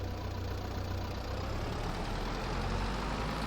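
A tractor engine in Farming Simulator 22 holds a steady, even rumble with a low throb and a faint mechanical rattle, close and continuous with no voices.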